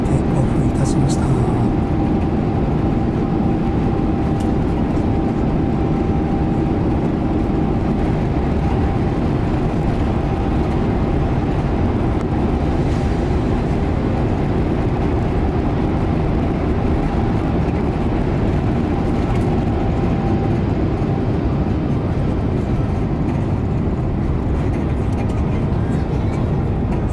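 A jet airliner rolls down Runway C and lifts off on an early morning domestic flight to Hokkaido, heard from inside the cabin as a steady, dense engine roar with a faint murmur of voices beneath it.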